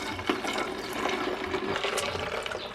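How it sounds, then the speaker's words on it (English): Cold water pours steadily into a jar of hibiscus tea concentrate sweetened with honey, a continuous splashing, gurgling fill that is close and fairly loud, with no talking. "I'll also add in some cold water."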